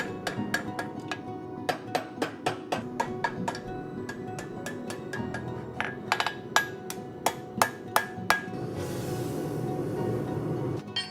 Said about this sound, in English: I'm going to do a drawing out of both ends under a power hammer